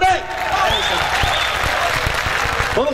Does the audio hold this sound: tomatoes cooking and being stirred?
no